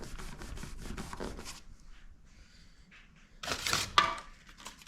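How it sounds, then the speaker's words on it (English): Henry all-weather flashing tape pressed onto an Old Town boat hull being rebuilt, giving quick rubbing and rasping strokes close up, a quiet pause, then a louder burst of rubbing. "I'm actually going to fasten this down with some all-weather flashing tape"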